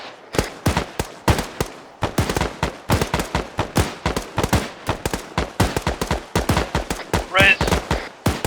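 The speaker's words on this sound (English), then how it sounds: "Continue firing the people that are running. Don't stop, just keep going and keep shooting." Gunfire at a shooting training session, loud close shots fired in quick irregular volleys and bursts, some rapid strings and some single cracks, continuing throughout with brief gaps.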